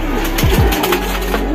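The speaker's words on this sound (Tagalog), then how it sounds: "Ayun nga mga kalapati," Racing pigeons arriving at a loft after a 316 km race from Pio Duran, Albay, with close wing flaps and brief cooing over a steady background hum.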